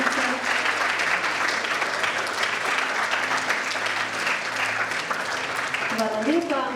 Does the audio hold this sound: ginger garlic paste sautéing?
no